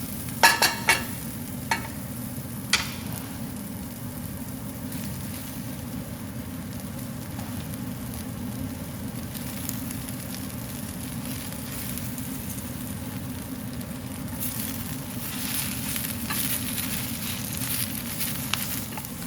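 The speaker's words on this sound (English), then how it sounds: "Now that the onions are turning, I'm going to add a little spinach" Spinach hits browning onions in a buttered pan, setting off a steady, close sizzle with a few stirring scrapes near the start and a louder burst of crackle toward the end.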